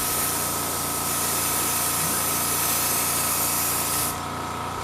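Steady airbrush-style spray hissing while paint is applied to a fishing lure, continuous and close, with a faint low mechanical hum beneath, easing off just before the end.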